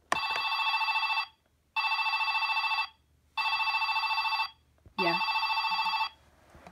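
A toy telephone from a Littlest Pet Shop playhouse gives four electronic ringing bursts about a second each with short pauses between, close and clear, with a brief voice sound near the last ring.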